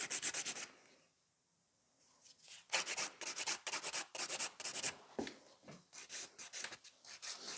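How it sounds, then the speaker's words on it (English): A nail file rasps against the free edge of a fingernail during gel manicure work, quick close strokes in repeated bursts after a brief pause. "File that free edge."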